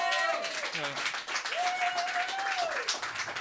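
Audience applause at a slam poetry night in Antibes, steady clapping heard under someone speaking with melodic voice inflections over it.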